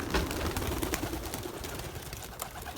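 Belgian racing pigeons gathered outside their loft coo and stir, a continuous close bird murmur over outdoor noise and possible wing flutters.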